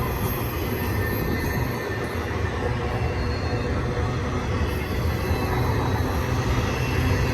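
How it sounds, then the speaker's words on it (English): A BNSF Z trailer freight train at the old Cajon Depot site begins to roll, a steady low rumble of locomotives and rolling cars with faint high wheel squeal, continuous and fairly close. "He's got the slack out of the train now and kicking it up a couple notches."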